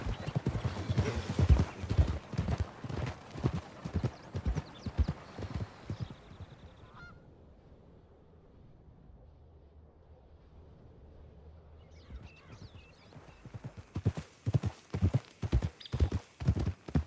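Horse hooves clip-clopping in the Red Dead Redemption 2 game, a loud close run of even beats that stops for a few seconds of near quiet, then starts again, with faint honking and a neigh mixed in.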